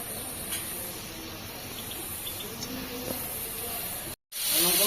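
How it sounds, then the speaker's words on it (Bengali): Pieces of boiled taro fry in a pan, giving a steady, close, even hiss that runs unbroken except for a brief dropout near the end. "এবার আমি এটা ভালো করে ভাজা করে নিই,"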